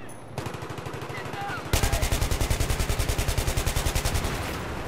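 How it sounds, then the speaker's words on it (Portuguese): Rapid automatic gunfire in Battlefield 3, a dense stream of evenly spaced shots that grows louder and continues steadily to the end. "Nossa, tá rolando muito tiro,"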